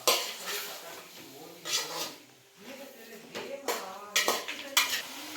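Marinated chicken stirred and mixed with a metal spoon in a pot, giving repeated scraping clinks and clatters in uneven bursts, close and moderately loud, with a faint sizzle underneath.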